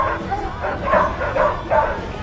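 At a dog show, dogs bark, yip and whimper in several bursts, sounding close, with voices talking over them.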